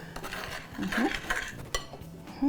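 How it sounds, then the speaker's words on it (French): A spoon stirs ricotta lemon cake batter in a bowl, giving quick uneven scrapes and light clinks against the bowl over a couple of seconds. "je vais commencer à mélanger avec une cuillère d'abord"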